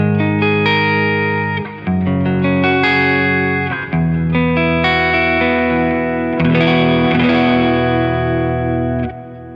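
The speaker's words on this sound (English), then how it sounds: "when you've got distortion, bit of reverb and stuff, and you're playing, you know, big chords, it sounds epic" Electric guitar rings out big sus2 barre chords with heavy distortion and a bit of reverb, loud sustained strums changing shape every couple of seconds, with no talking.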